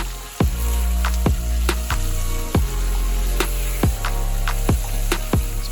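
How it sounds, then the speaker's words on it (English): Tomato and cabbage frying in a pan are stirred repeatedly, sharp scraping knocks of a utensil against the pan over a soft steady sizzle. "Stir through for a further minute."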